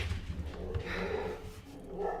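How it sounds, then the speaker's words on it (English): A dog barks in short, scattered bursts at a moderate distance, mixed with steady wind noise and indoor room sound. "I don't know what she's barking at."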